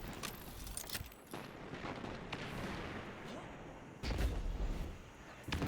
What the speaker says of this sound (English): Trying to get the snipers with the scout sniper.